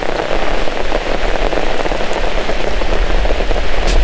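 Steady, heavy rain falls at a campsite, a dense, even patter of drops on surfaces throughout, loud and close with no talking.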